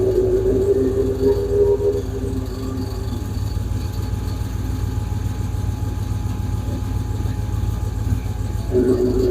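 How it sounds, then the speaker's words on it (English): Transmission noise from a Hemi Plymouth Duster idling in neutral: a steady low engine rumble with a constant mechanical drone and faint whine, continuous and fairly close. "it's my transmission making that noise when it's hanging in neutral"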